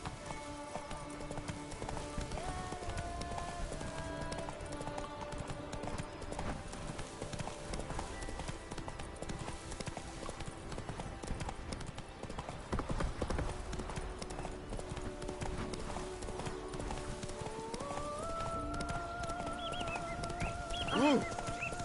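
A horse gallops in a PlayStation 4 video game, rapid rhythmic hoofbeats pounding steadily and close throughout, over sustained game music tones.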